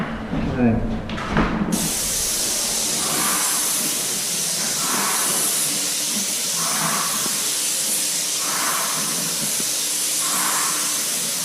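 A spray gun coats wooden doors with paint, giving a loud, steady, continuous hiss after a brief clattering start, with faint rhythmic pulses running through the spray.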